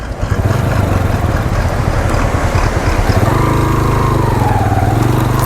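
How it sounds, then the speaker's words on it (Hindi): A jeep grinds uphill in 4x4 gear on a rocky mountain track near a glacier in Neelum Valley, its engine droning loudly and close, then rising into a strained whine as the tyres slip. "अब ये देखें जीप के टायर स्लिप हो रहे हैं।"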